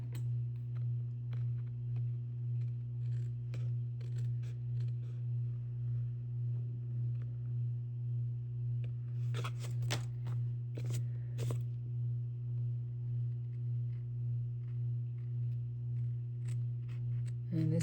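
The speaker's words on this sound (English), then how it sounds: "Now I'll trim it off." Scissors snipping paper to trim a card from a Paper Pumpkin October 2025 kit, a few short soft cuts in a cluster over a steady low electrical hum, no talking.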